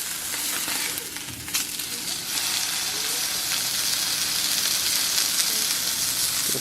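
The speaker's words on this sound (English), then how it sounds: "start up a pan, put it on high heat, just toss it in. Just a quick sear" A sous vide steak searing in a pan over high heat gives a loud, dense, continuous sizzle and hiss, close up, with one brief bump near the start and no talking.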